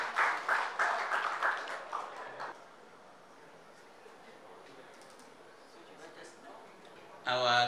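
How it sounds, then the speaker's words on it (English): An audience at a book launch in Malawi claps briefly for a presenter, the applause fading into a murmuring room before a voice starts at the end. "let's clap our hands for Mr. Adini as he's coming with his presentation"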